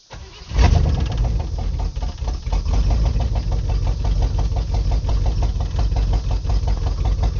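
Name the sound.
truck engine cranking and starting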